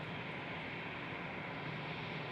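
An Air France airliner spools up its engines at Schiphol airport, a steady distant broadband roar and whine that holds even throughout.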